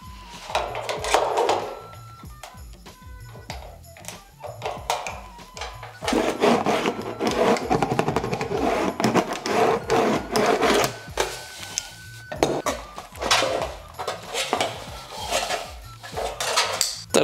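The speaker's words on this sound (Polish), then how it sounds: "Ja sobie mini benderkiem zrobię kawałek." A hand mini bender works a strip of sheet metal for chimney flashing, giving repeated metallic clanks, scrapes and rattling bursts that come in close, loud irregular bouts with short pauses between them.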